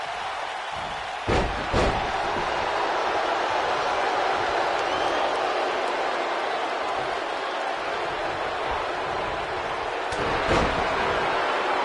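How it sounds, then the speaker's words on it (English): A video game crowd roars steadily through a WWE 2K19 wrestling match, a sustained cheering wash broken by a few sharp slams and thuds from the ring. "by the sound of this crowd, I think they're getting what they wanted"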